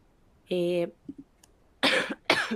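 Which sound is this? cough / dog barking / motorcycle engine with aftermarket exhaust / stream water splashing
cough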